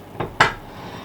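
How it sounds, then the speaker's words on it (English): Two quick clinks of a utensil against a plate as roast potatoes are lifted out of the fat, the second knock louder, then quiet kitchen room tone. "I lift the spuds out onto a plate just to stop them sitting in the fat."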